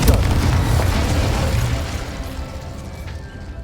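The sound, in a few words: Incendio and Confringo spell explosions in the video game Hogwarts Legacy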